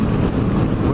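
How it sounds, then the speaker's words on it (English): Strong wind gusts buffet the microphone of a cyclist riding a bike, a loud continuous roar and rumble filling the whole second with no letup. "Way too windy for sure."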